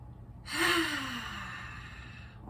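A long, audible exhale from an instructor during a mobility exercise for midback and neck pain, a single breathy sigh rising then trailing off over about two seconds, close and clear with no speech.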